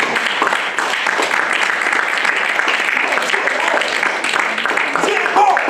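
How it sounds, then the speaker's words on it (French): A church congregation breaks into loud, sustained applause and cheering for Jesus during a French-language sermon, a dense wall of clapping that holds steady throughout with voices mixed in. "Est-ce qu'on peut acclamer Jésus?"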